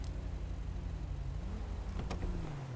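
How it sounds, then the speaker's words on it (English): A car engine in a GTA roleplay game, a steady low drone with a shifting pitch that hums on throughout, briefly joined by a sharp burst near the end before fading. "That thing does not sound like it has the right engine sound on it"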